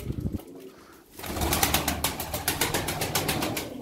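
Pigeons at a Turkish loft, including a double mirror-tail blue pied, coo in a steady series of soft repeated calls that begin after a quiet opening and continue close by with a faint rustle beneath.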